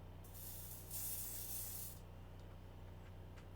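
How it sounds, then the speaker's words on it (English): Icy Hot pain relief spray from an aerosol can sprayed onto a hand, a close hissing burst lasting about a second amid quiet room noise, followed by a small click at the end. "Let's spray some icy hot on my hand."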